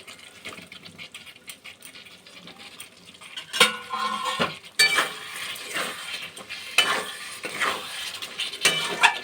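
Potatoes, already fried, tipped into a pan of spiced masala and stirred for a paneer masala curry, giving clattering spoon-against-pan scrapes and clinks that grow louder and more frequent in the second half, with no talk.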